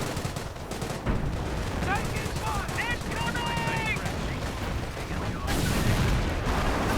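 Heavy gunfire and artillery in a World War II strategy game, with dense rattling bursts and booms continuing throughout, loud and close, under a busy battle din with whistling effects in the middle.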